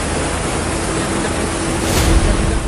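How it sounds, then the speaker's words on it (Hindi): A waterfall pours down through broken mountain rock during flooding in Assam, a loud, steady, broadband rush of water that swells briefly near the end, with no voices. "पहाड़ों को तोड़कर तेज आवाज से बहते इस झरने को देखिए"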